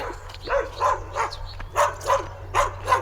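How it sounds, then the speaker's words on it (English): Dogs bark repeatedly in a Kenyan village, a steady run of roughly eight moderately loud barks over a low background hum, with no talking. "I can hear there is dogs here."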